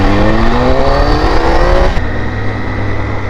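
Three-cylinder motorcycle engine revving on a trail ride, a loud, continuous buzzing roar with rising pitch that dips and settles into a steadier drone after a couple of seconds.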